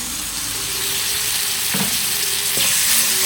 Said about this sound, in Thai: แล้วก็ผัดต่อค่ะ ผัดทุกอย่างให้เข้า กัน ค่ะ